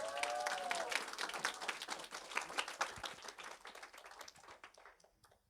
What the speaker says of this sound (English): So give it up for Zining.